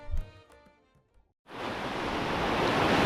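Calm sea waves wash steadily onto Hedvi beach at sunset, a broad continuous surf hiss that swells in after a brief quieter stretch and stays full and close, with no voices.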